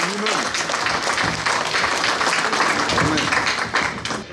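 Audience applause fills a painting exhibition hall, dense and steady throughout, with scattered voices mixed in.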